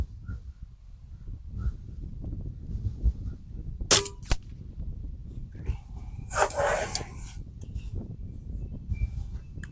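An Air Venturi Avenger .177 air rifle fires during chronograph velocity testing. One sharp, close crack stands out, then brief rustling and handling noises follow over a low background rumble.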